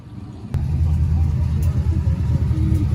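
A car being drifted with the handbrake on a banked track at the Freedom Factory, its engine rumbling loud and steady at low pitch after a sudden jump in level, with the revving held under the throttle throughout.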